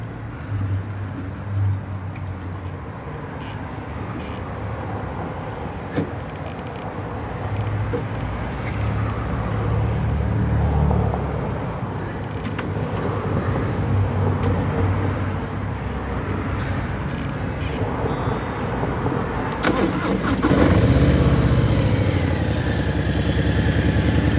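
A Harley-Davidson 117 motorcycle with a 1920 cc engine rumbles steadily at close range, its low throbbing idle continuing throughout and swelling louder toward the end.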